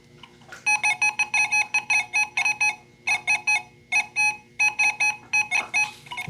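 An XP Deus II metal detector sounds its midtone for a nickel held close to the coil: rapid bursts of repeated beeps in tight groups, loud and near over a faint background hum.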